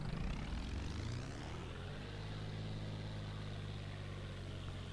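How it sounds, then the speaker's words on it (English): A propeller aircraft engine in the IL-2 1946 flight simulator game runs at full power with prop pitch at zero, giving a steady, droning hum that settles slightly after the first second, with no talking. "Here is the engine at full power with prop pitch at 0."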